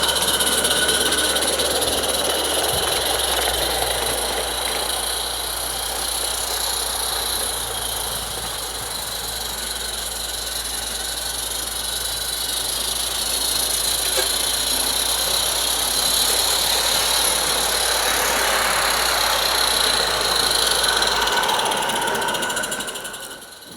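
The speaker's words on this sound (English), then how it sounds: "here it is then, running around the track, pulling a rate of 4 LGB coaches" A live steam garden railway locomotive runs around an outdoor track in cool November air pulling four LGB coaches, giving a continuous hissing, chuffing engine sound with a steady low hum throughout, fairly loud and close.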